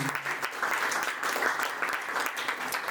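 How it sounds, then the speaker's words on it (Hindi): An audience at a school annual function claps for the school team. The dense, steady applause carries on through the whole stretch, moderately loud and slightly distant. "तो एक बार पूरी टीम के लिए जोरदार तालियां होनी चाहिए"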